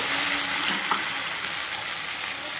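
Ginger, garlic and onion paste sizzling in hot oil, a steady bright frying hiss with a brief stir partway through, close and continuous with no voices.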